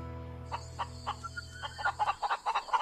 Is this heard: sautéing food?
no